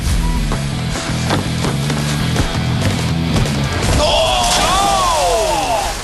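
Wipeout contestant crashing hard into the big bouncy balls on an obstacle course, a few thudding impacts over crowd noise and music, followed by rising whistles or sliding tones near the end.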